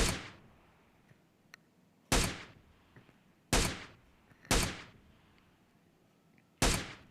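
SKS rifle fire in PUBG, five sharp, loud single shots spaced about one to two seconds apart, each with a short decaying echo, over a quiet background.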